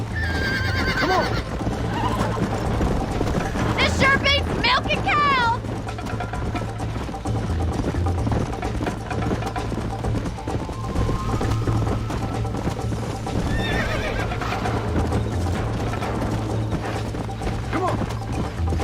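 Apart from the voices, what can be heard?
horse galloping and neighing in video game Red Dead Redemption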